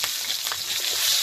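Five-spice seeds and slit green chillies sizzle in a little hot oil in a wok, a steady close crackling hiss with small pops.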